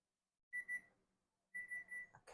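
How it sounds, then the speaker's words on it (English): An oven timer beeps in a home kitchen while a stuffed pepper casserole bakes, two bursts of quick, clear electronic beeps separated by a short pause, close and alone. "Timer's going to go off in a second or two."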